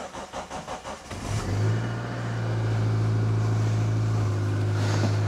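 A car engine is cranked briefly with a rhythmic starter churn, catches on the first try, and settles into a loud, steady idle close by.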